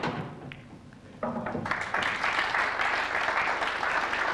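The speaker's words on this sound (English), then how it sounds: "Duly applauded." A crowd at a 1998 Embassy World Pool Championship quarter final breaks into applause after a shot, starting faintly and swelling into a steady wash of clapping from a large audience.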